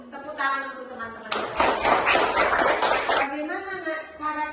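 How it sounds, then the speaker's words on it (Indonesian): Children in a classroom burst into a couple of seconds of lively clapping, close and loud, between stretches of a teacher speaking. "Tepuk tangan untuk teman-teman."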